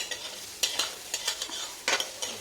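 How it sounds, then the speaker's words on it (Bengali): Finely chopped onions frying toward brown in a pan, soft sizzling broken up by quick, uneven spatula scrapes and stirs, close and quiet, with no voices. "তো এবার আমি এটাকে খুব ভালো করে লাল করে ভাজব"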